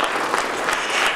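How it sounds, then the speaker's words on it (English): Audience applause after a question session at an amateur radio conference, a short dense burst of clapping from a room full of people. "there's a big round of applause here for you"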